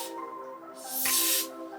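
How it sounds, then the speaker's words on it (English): A short spritz of spray misted onto the edges of a pink lace frontal wig during a glueless install, one soft hiss swelling for about half a second over a faint steady hum. "We'll spray on the edges."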